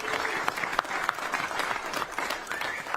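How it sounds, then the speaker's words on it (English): A room full of people at a combat-sports launch press conference applauds Tony Ferguson, with dense steady clapping and a few whoops running throughout, fairly close. "can we have a round of applause for Tony Ferguson, man?"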